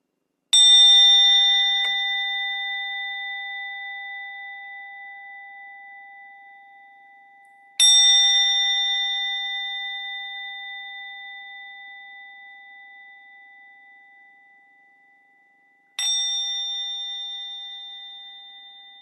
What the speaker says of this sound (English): Ring a bell here.